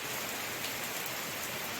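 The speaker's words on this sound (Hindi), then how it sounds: "झमाझम बारिश हो रही है" Heavy rain pours down steadily at night outside a home, a dense, loud, even hiss with no pauses and no voices.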